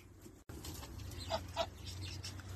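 Roosters and other farm birds cluck and call faintly in a yard, with a couple of brief, slightly louder clucks over a low, steady rural background.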